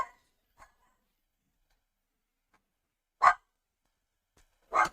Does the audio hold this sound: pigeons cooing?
no